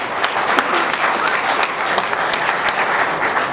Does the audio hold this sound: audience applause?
yes